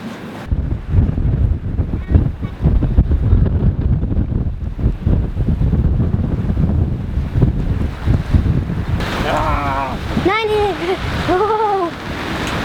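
Gusty wind of about 20 knots buffets a sailboat riding at anchor off a desolate island, a steady roaring rush with water noise, while voices talk over it and a few rising-and-falling bird calls appear near the end.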